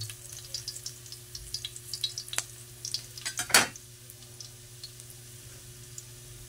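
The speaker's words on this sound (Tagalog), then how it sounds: "Brown lang natin yung bahagi ang bawang" Garlic browns in a hot pan for squid adobo, a continuous bright sizzle punctuated by small ticks and scrapes of stirring, with one louder spattering burst partway through.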